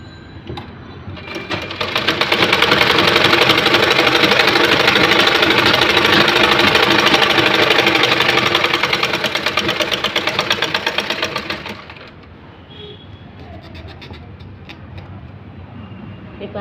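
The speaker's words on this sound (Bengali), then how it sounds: "একটু 2 সুতা নিচে, আবার ডাবল সেলাইটা দেব।" A sewing machine runs a double seam on boys' pants, starting with a soft whir, then holding a loud, fast, steady mechanical rattle for about ten seconds before stopping, leaving quiet room noise behind.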